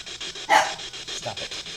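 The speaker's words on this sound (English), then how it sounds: "What are you growling at?" A dog pants in quick rhythmic breaths, close and moderately quiet, with one brief louder huff or rough vocal burst partway through; any growl is not clearly distinct.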